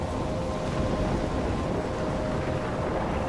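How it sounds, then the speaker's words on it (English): Thunderstorm in the video game Life is Strange: a dense, continuous roar of wind and heavy rain with low rumbling underneath, steady and loud throughout, with no voices. "I'm trapped in a storm?"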